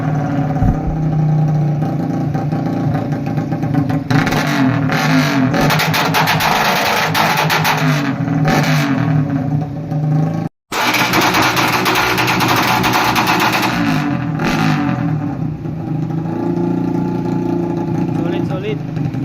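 A loud tuned motorcycle exhaust revs hard close by in a repeated pattern, with brief drops between bursts and one sharp cutout midway, and voices are faintly mixed in.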